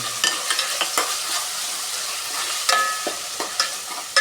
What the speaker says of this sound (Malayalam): ഇതിൻ്റെയൊക്കെ പച്ചമണം മാറുന്നത് വരെ ഇളക്കിക്കൊണ്ടിരിക്കും.